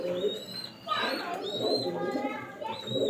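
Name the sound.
pigeon cooing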